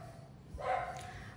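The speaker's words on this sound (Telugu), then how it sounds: "మా కుక్క అరుస్తుంది" A household dog gives a single short bark that rises out of quiet room tone partway through, fairly faint and a little distant, with no speech around it.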